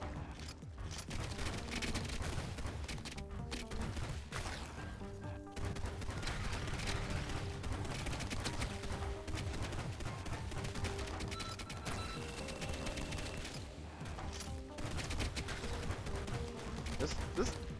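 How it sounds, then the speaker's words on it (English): A drum gun fires in a video game: dense, sustained bursts of rapid gunfire that run for most of eighteen seconds, with brief lulls near the start, middle and end, plus mechanical clanks mixed in. "This drum gun is popping them a lot easier than it did before"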